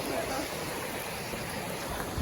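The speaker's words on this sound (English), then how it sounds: "We have made it to the waterfall." Broadband rushing water from a waterfall pours on steadily and evenly throughout, a constant roar close by with no other sound standing out.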